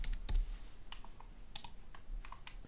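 Alt text is typed on a computer keyboard in a quiet room: close, irregular bursts of crisp key clicks with short pauses between them.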